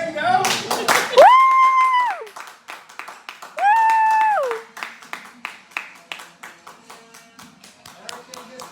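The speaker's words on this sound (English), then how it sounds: "I'm slapping my leg because I can't clap." A person slapping their leg in place of clapping, a string of sharp slaps that start quick and thin out into spaced single hits, mixed with loud sustained tones and some talk.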